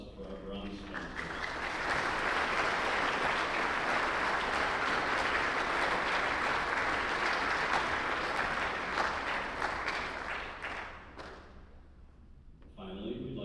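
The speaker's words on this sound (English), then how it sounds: "Let's have a round of applause for our bronze sponsors." A banquet crowd at a student design competition awards dinner gives a round of applause that swells quickly, stays dense and loud for about ten seconds, then thins out as a voice resumes.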